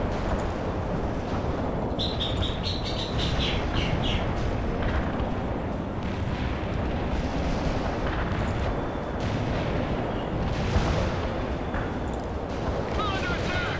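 Artillery in the World in Conflict strategy game fires for effect, with heavy rumbling blasts and crackling impacts forming a dense, loud barrage throughout, while radio-style voices speak over it.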